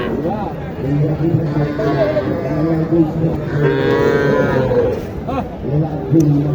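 Cattle lowing at a bustling cattle market in Naogaon, with one drawn-out moo rising mid-clip among close, constant chatter from people nearby.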